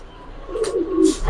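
A pigeon at a pigeon farm gives a single short, throaty coo, close and clear over a quiet background.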